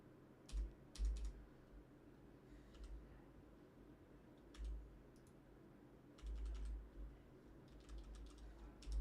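Computer keyboard typing, quiet short bursts of key clicks scattered across the stretch, with a low steady room hum underneath and pauses between the flurries.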